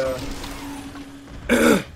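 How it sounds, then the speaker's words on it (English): A short, harsh throat clearing bursts out near the end, loud and close, after a stretch of quieter background. "Let me clear my throat."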